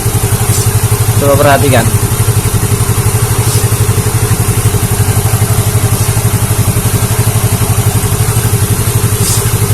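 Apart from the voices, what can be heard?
Yamaha Mio J scooter engine revving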